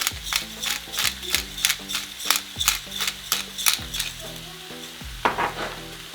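Shrimp frying with onion in a pan, a constant sizzle broken by rhythmic scraping strokes of a spatula stirring and tossing, close and fairly loud, with no talking.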